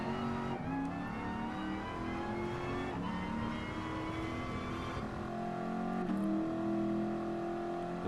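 A race car engine in the Gran Turismo Sport video game, in front-engine rear-drive challenge, revs hard through the gears with rising whines and shift drops, loud and continuous without talk.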